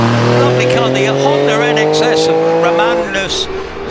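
Honda NSX race car engine at a British Championship hillclimb at Shelsley Walsh, a loud high-pitched whine holding steady and rising as it climbs, with a commentator talking over it throughout.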